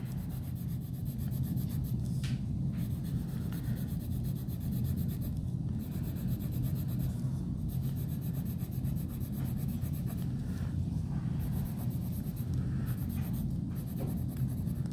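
A pencil tip, held on its side, shades across paper while drawing an eye, making continuous close, soft scratchy strokes with a few brief pauses.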